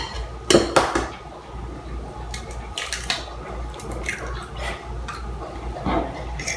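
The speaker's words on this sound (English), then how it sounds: "Start mixing these together" Dog treat dough with egg mixed in a bowl, with clattering spoon-against-bowl knocks and wet stirring, a few louder strikes early on, close and without speech.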